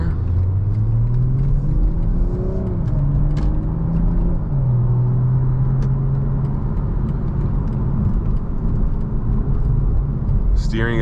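A BMW Z4 M40i roadster pulls away under acceleration, its engine note climbing through rising revs and gear changes, a steady loud rumble with road noise throughout.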